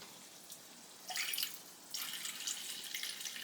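Water poured from above into a pot of oats and barley porridge, a faint steady trickling stream that swells louder partway through and keeps running to the end.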